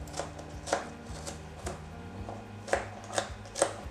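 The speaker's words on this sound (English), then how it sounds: "why am I chopping the garlic, ginger, onions and green chilies" Sharp knife taps on a cutting board, chopping garlic, ginger, onions and green chilies, irregular then a quick cluster of chops, close up with a low steady hum behind.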